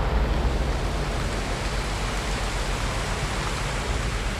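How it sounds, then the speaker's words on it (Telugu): Heavy rain in Mumbai pours down in a steady, dense roar that holds loud and unbroken throughout, with no voices over it. "అయ్యా ఆ రేంజ్లో పడుతుంది వాన్ ఇక్కడ"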